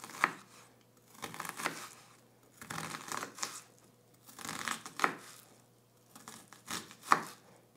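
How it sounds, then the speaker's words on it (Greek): An onion is finely chopped with a knife on a board, in quick bursts of rapid, rustling cuts separated by short pauses, close up and without speech. "Ψιλοκόβουμε το κρεμμύδι."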